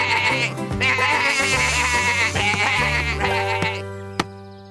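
Cartoon sheep bleating, several loud, wavering baas layered over one another in a continuous chorus, ending with a sharp click as the sound cuts off.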